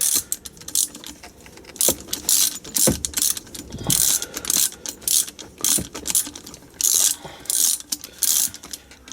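A ratchet wrench tightens a bolt on a Land Rover Defender TD5 gearbox, giving repeated bursts of rapid clicking strokes up close, with a few metallic knocks between them.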